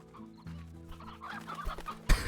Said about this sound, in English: We have chickens we can incinerate too.